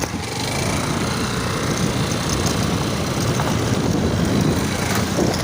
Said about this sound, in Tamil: வண்டி சவுண்டு பாருங்கள்